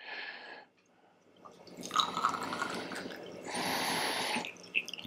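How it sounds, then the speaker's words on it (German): Water is pushed through into sample tubes for ICP-MS analysis in a lab, giving soft liquid squishing and dripping in two short, close bursts after a quiet gap. "jetzt drücken wir ganz einfach das Wasser hier durch"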